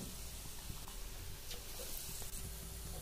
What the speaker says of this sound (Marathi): तर असा बटाटा वडा पटापट सोडायचा आहे